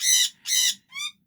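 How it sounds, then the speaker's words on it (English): Pet birds in a cage give three loud, close, harmonic squawking calls in quick succession, the last one thinner and higher. "Excuse the birds in the background."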